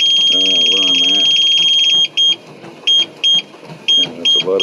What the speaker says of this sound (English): that's a lot of beeping